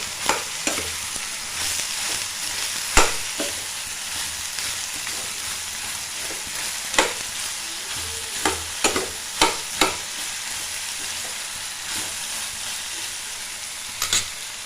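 Bitter gourd pieces frying and sizzling in a pan under a constant hiss, with sharp scraping stirs of a spatula breaking through at irregular intervals, close and loud without any voices.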